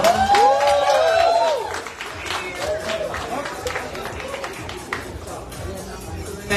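Audience applause and cheering at a Mrs. Universe pageant press conference, loud bursts of clapping with whoops and crowd noise, easing into scattered claps and murmuring voices.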